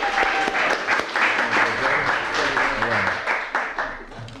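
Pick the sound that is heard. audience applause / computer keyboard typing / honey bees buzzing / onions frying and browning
audience applause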